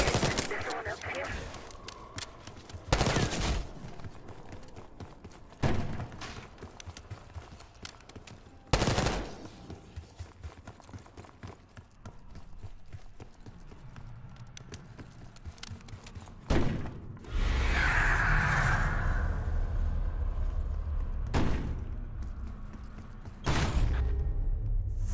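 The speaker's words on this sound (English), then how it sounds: "Hearing gunfire? Yeah. Sounds like coming from one of the lower floors." Gunfire from the lower floors of a building in the video game Black Ops 6: muffled bursts and single thuds at intervals, some louder and closer, set over a continuous game ambience with speech present.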